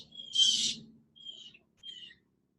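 Birds calling outdoors: a burst of bright high chirping followed by two shorter, fainter call phrases, with a low murmur underneath, fairly quiet overall.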